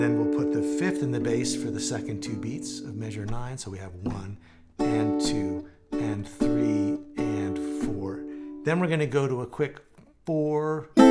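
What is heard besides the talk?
No distinct noise like a dog, phone or traffic.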